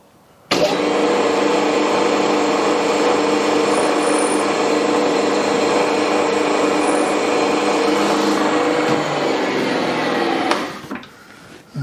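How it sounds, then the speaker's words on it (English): A machine drill cuts a countersink hole in metal with a steady, loud whirring grind that runs unbroken for about ten seconds, then winds down and stops. "Okay, so I'll do the countersink this time first."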